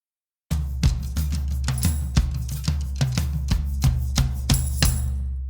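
A drum percussion section plays together, with a steady low thumping pulse, sharp snare-like cracks and bright cymbal splashes, loud, dense and continuous with no voices.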